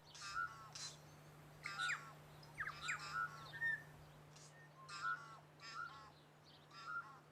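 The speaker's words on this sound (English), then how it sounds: "We have a bird table, and on cold mornings we feed the silver eyes to help them through the harsh conditions." Silvereye birds calling around a bird table on a cold winter morning in New Zealand, a series of short clear chirps and squawks at moderate distance over a steady low hum.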